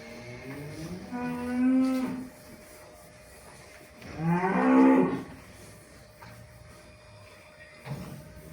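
Two long, loud cow moos, one early and one a few seconds later, with a fainter third call near the end and quiet farmyard air between.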